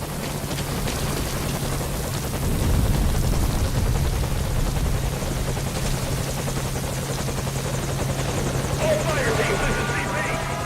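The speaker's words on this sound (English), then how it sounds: "the enemy has spotted our helicopter" A helicopter whirs steadily overhead in a night mission in Metal Gear Solid V: Ground Zeroes, a constant low drone beneath rain-like noise and game effects, with voices over it.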